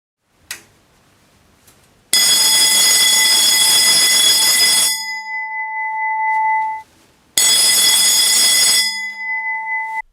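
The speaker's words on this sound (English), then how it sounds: "I will now try to connect this passive infrared motion detector to the Arduino board that now controls the alarm bell." A loud alarm bell, driven by an Arduino and triggered by a passive infrared motion detector, rings hard twice, each time for about two to three seconds. After each burst a steady electronic tone lingers before cutting off.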